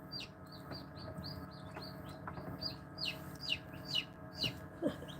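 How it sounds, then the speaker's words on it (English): Newly hatched chicks in an incubator give repeated high, thin chirps that grow louder and more frequent over a low steady hum, with no talking. "when the chicks are just sitting there chirping"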